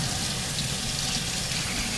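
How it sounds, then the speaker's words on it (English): Very hot tap water running into a kitchen sink, a steady close hiss of flowing water for the whole stretch, alone with no voices. "Hottest water you can muster."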